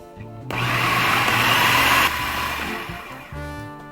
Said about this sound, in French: Je vais fermer mon mixeur et mixer à nouveau.